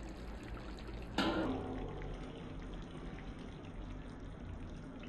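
Heated water poured into chicken in a pot makes a short, splashy gush of liquid that starts abruptly and fades into a soft steady hiss, quiet and close.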